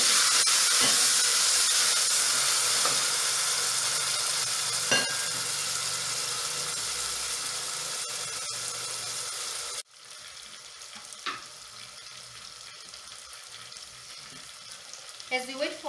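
Onions and tomatoes frying for chicken liver make a strong, hissing sizzle that drops abruptly to a quieter, steadier fry partway through, with occasional utensil clicks and no speech.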